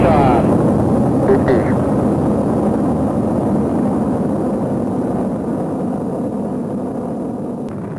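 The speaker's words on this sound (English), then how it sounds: "Liftoff. We have a liftoff." Saturn V rocket lifting off for Apollo 11, a loud, steady broadband roar that rumbles continuously and fades slightly toward the end, with no clear speech over it.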